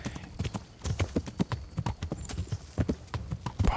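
Horse hooves clip-clop in a quick, uneven galloping rhythm in the video game Kingdom Come: Deliverance, close and fairly faint, with an occasional soft snort or whinny.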